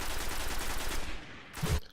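Sustained gunfire during a gunfight in a multiplayer PvP match in the video game Destiny, a dense continuous rattle of shots that thins out near the end.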